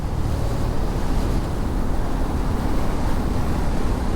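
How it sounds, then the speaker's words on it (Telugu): Loud, continuous roaring wind buffeting the microphone on a road near Nellipaka, steady and broadband with no pauses and no voices. "ఇక్కడికి వచ్చిన గాలి పెరిగిపోయింది"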